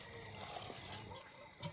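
Water runs steadily in a hissing stream, poured into a cooking container at an outdoor farm kitchen in winter, faint and continuous with no talking.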